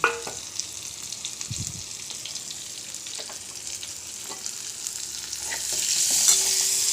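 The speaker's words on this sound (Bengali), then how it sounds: "ও কড়াতে এবার কাঁচা লঙ্কাগুলো আর পেঁয়াজ কুচিগুলো দিয়ে দিলাম" Green chillies and chopped onions fry in a little oil in a wok, giving a steady close sizzle with scattered stirring clicks that swells louder toward the end.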